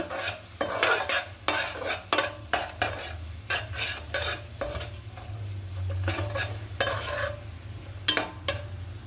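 Chili powder, coriander powder and salt are stir-fried as spice masala in a pan, with repeated sharp spoon scrapes and stirring strokes over a steady low sizzle, close and fairly loud, no talking.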